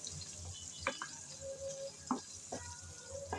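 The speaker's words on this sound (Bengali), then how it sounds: "চিংড়িগুলো দিয়ে নেড়ে চেড়ে হালকা করে 3-4 মিনিট একটু নেড়ে চেড়ে ভেজে নেব।" Shrimp frying in a pan, a steady hiss of sizzling oil joined by a few sharp scrapes and clatters of stirring and one brief tonal squeak, close and fairly quiet, with no voices.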